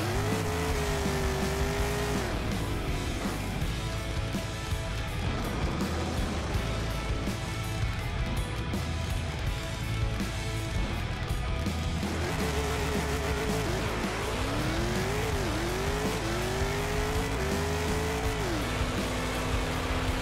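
A Pro Modified drag car in the Bounty Drag Racing video game roars through its run, a loud, continuous engine howl that builds revs slowly and then climbs rapidly through repeated gear changes.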